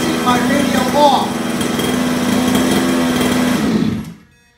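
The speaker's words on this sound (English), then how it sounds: "Truck is off, kills the engine." Losi 5ive T RC truck with a small gas engine buzzing at a steady high whine, then cut off abruptly by a kill switch, falling quickly into near silence.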